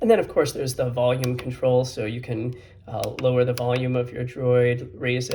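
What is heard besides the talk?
None of the usual background noises is heard.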